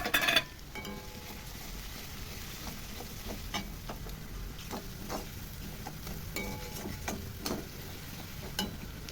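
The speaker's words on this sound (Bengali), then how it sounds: "রসুন ছেড়ে দেবো, রসুন ঘষে রেখেছিলাম। লঙ্কা ছেড়ে দেবো সঙ্গে, লঙ্কা কুচি কুচি করে কেটে রেখেছিলাম।" Grated garlic and finely chopped chili frying in a pan for chili paneer, a soft steady sizzle with occasional light stirring ticks and scrapes, quiet and without talk.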